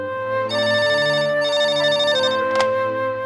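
A telephone rings with a steady electronic ringtone, loud and continuous for several seconds in a domestic scene, alone without voices.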